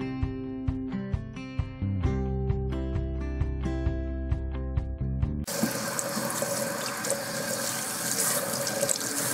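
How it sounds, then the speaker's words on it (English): Cool water runs from a bathroom tap for rinsing conditioned hair, a steady splashing rush that cuts in suddenly after a stretch of plucked music and continues loudly to the end. "I'm rinsing with cool water."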